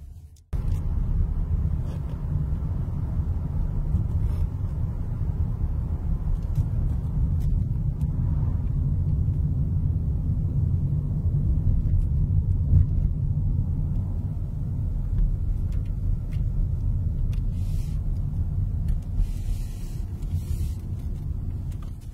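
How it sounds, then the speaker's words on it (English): A 2021 Rolls-Royce Ghost heard from inside while driving, its engine a low, steady, muted rumble with road noise, constant and continuous throughout without any talk. "So what does that engine noise actually sound like when you're driving the car?"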